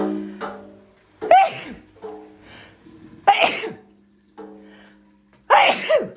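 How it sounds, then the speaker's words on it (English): Three loud sneezes, well spaced, each preceded by a sharp intake of breath, in a quiet indoor space. "I think I need to sneeze."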